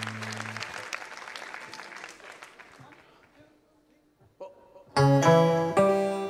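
Audience applause in a staged singing performance, heard as a short burst of clapping that fades out before music swells, mixed with voices and singing.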